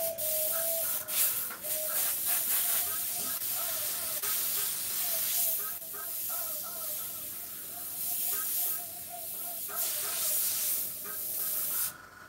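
An airbrush sprays thick white and pink paint, giving a steady hiss that swells and fades in repeated bursts with faint mechanical whirring beneath, close by, while a person talks over much of it.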